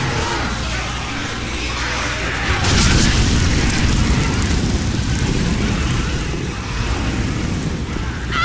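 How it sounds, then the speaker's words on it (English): A Molotov cocktail bursts into flame in Left 4 Dead 2 on the Dark Carnival level, a loud whooshing roar that swells and keeps rushing like wind over a continuous low rumble. "Throw a Molotov."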